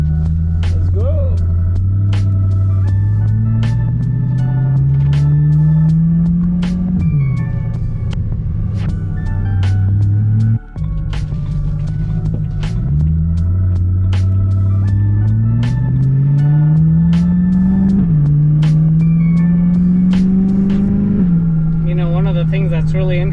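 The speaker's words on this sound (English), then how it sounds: "That Corvette has a V8 and also has a dual clutch" A V8 engine in a BMW E92 M3 racing a C8 Corvette with a dual-clutch gearbox, loud in-cabin drone climbing through several upshifts with brief dips between gears, people talking over it.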